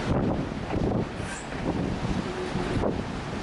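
Strong wind buffets the microphone on a cruise ship balcony on a P&O Baltic cruise, a constant loud roar with gusty swells and faint sea wash beneath.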